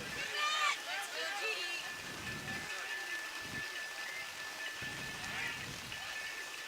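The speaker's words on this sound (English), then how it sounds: "this rain continues to sort of just pelt us over here" Rain pelts down on an outdoor lacrosse match, a steady faint hiss of drops under a commentator's voice, with occasional crowd and field noise.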